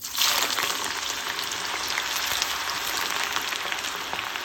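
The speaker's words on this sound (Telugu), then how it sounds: "ఇప్పుడు వీటిని డీప్ ఫ్రై చేసుకుందాం సో చూసారు కదా ఇక్కడ ఆయిల్ మంచిగా వేడెక్కింది" Sliced ivy gourd deep frying in hot oil, a dense steady hiss and crackle, close and constant for the whole stretch after an initial surge as the slices go in.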